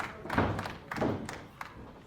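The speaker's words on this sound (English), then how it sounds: "Rode that clothesline right down to the canvas" A wrestler taken down by a hard clothesline during a championship match, landing on the ring canvas: two heavy thuds about half a second apart, then a lighter knock, fairly close with crowd noise underneath.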